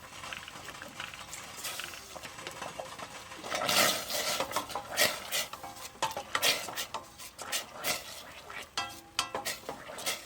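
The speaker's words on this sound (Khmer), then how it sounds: "បន្ទាប់មកកូរឲ្យវាចូលជាតិគ្នាល្អសិន" A utensil stirs fish sauce into pork in a cooking pot, scraping and clinking against the pot in irregular bursts with light sizzling, close and moderately loud, with no talking.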